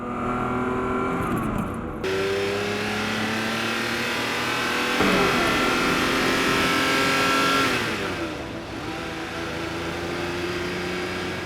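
A Ferrari 512 BBi's 5-liter flat-12 engine revs and accelerates through gear changes, a loud, sustained mechanical roar that climbs, drops at each shift and rises again, with no voices.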